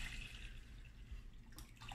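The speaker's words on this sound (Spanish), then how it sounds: "Le ponemos agua a la carne." Water poured onto meat in a cooking pot for a traditional Mexican field rat soup, a soft steady splashing and trickling that runs continuously and fairly quietly, with no one talking.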